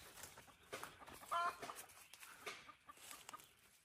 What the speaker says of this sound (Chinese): 哇，这边有鸡产蛋啊！